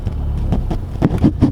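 Honda Civic Type R with a manual gearbox pulling away on very little throttle, giving a low, muffled engine drone with wind buffeting and a few soft thumps.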